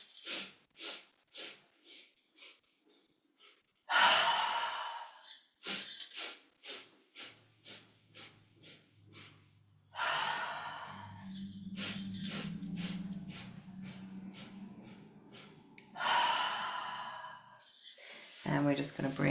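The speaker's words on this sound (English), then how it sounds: "Breathing in." During a guided breathing exercise, slow deep breaths are drawn in and let out in long repeated cycles, close and soft, with a low tone holding underneath part of the sequence.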